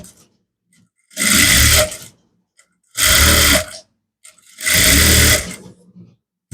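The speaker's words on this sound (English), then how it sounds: "Stitch all the way down, and then you sew here as well." A sewing machine stitching trousers runs in three loud, steady bursts of about a second each, separated by short quiet pauses, close and with no talking.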